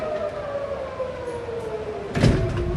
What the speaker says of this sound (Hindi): यहाँ पे सायरन हर तरफ से बज रही है